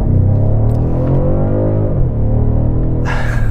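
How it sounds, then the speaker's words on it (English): 2021 BMW M550i xDrive sedan with a throaty V8, a deep loud rumble rising in pitch under acceleration, dropping back, then a burst of higher roar near the end. "It's so nice to have a proper throaty V8 in this big sedan."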